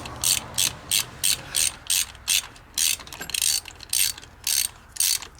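Ratchet wrench tightening a spark plug on a 2017 Ford Fusion Hybrid, about a dozen crisp ratcheting bursts in a steady back-and-forth rhythm, close and clear with no talk.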